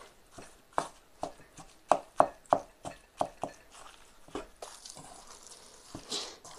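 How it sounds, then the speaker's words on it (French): Bread being mixed by hand into a meatloaf mixture with garlic and onion for Polish klops, giving a series of soft, squelching slaps and pats, close and irregular, with no talk. "on mélange jusqu'à temps qu'on ne voit plus le pain"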